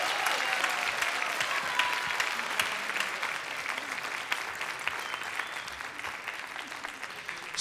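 Sustained audience applause following a performance of a song, a dense steady clatter of many hands clapping throughout, with no talk over it.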